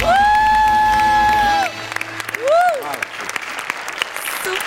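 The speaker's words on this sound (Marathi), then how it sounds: "आणि मी उभा राहून टाळ्या वाजवतो." An audience at a Marathi comedy stage show applauds, the scattered claps and cheers rising beneath loud voices. It opens with a long, sustained vocal tone, followed by a shout over continued clapping.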